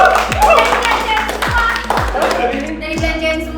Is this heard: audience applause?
yes